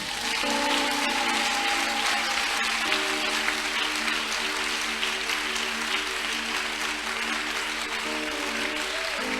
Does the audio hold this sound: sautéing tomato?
no